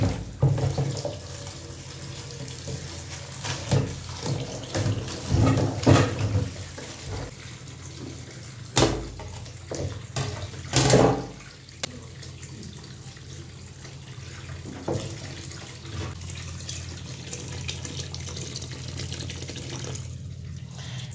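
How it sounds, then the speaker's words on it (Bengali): Tap water running into a sink to soak frozen fish, with a continuous close splashing flow and a few louder bursts as items are moved about in the water, no talking. "তো চলেন মাছগুলা ভিজিয়ে রাখি যাতে আইসটা ছুটে যায়।"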